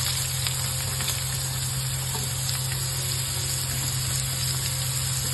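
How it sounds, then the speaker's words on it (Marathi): Chopped onions and green chillies frying in hot oil for anda bhurji, a steady, dense sizzle that holds at an even, loud level throughout with no talk. "त्याच्यासाठी मी 2 मोठे कांदे आणि 5 हिरवी मिरची चिरून घेतलेली। आता मी त्या तेलात टाकणार आहे।"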